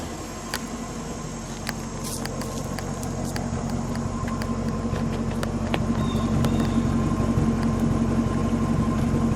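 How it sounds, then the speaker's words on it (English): A 1942 Buick Super Convertible Model 56C engine, Fireball Dynaflash straight-eight, idles steadily with a low, even, quiet rumble from the exhaust, close and continuous, with faint clicks over the top. "let me get a little exhaust note."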